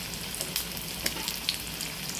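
Kara paniyaram fry in oil in a pan, giving a close, steady bubbling sizzle with a few soft pops and clinks, no voices.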